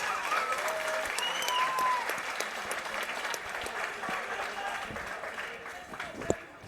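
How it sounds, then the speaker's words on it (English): Boxing crowd applauds both fighters after a three-round bout, a sustained wash of clapping with a few cheers and whistles, fairly steady and moderately loud, with a sharp bang near the end. "let's give both fighters a big round of applause"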